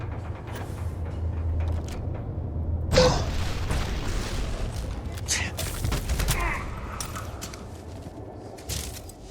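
Enemy gunfire in the video game Starfield: Shattered Space, with a loud burst of shots and rattling impacts over a steady background rumble and a few later cracks. A voice talks over part of it.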